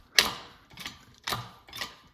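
Hand-cranked hoist lifting a John Deere B tractor part, four distinct metallic ratcheting clicks in an even rhythm, close and fairly quiet, with no talking.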